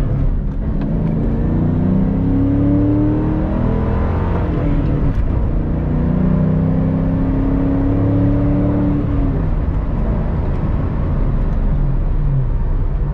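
A 1998 Mustang SVT Cobra with a Hurst shifter accelerates hard, its engine and exhaust roaring loud and continuous from inside the car, with pitch climbing through the gears.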